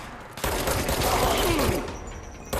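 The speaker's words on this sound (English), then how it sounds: "And that seemed like a grenade." A grenade explodes in the video game Control, a loud broadband blast that sets off a long, dense rumble with a sliding tone, fading slightly before a second sharp hit near the end.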